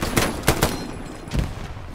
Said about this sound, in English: No, that was his carbine.